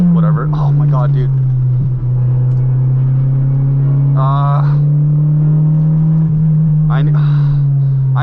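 A Honda Integra's engine drones steadily while driving, a loud, close, sustained hum under the cabin with brief bursts of voices over it.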